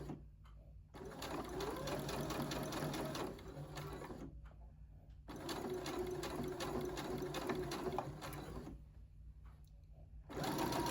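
A regular home sewing machine stitches a T-shirt neckline in three quiet runs of rapid, steady mechanical chatter, separated by short pauses.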